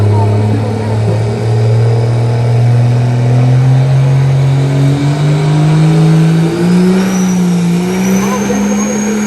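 A 1500+ HP drag truck engine drones loudly and steadily during a sled pull, its pitch slowly climbing as it labours under load, with a constant rumbling roar throughout.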